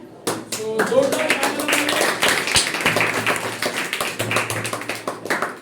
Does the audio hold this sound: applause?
yes